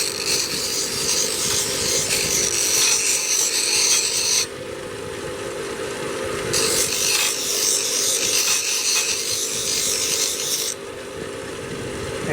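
A hand file rasps against a homemade metal scribe held in a vise, sharpening its tip into a hook, with steady loud back-and-forth strokes that run continuously and pause briefly twice.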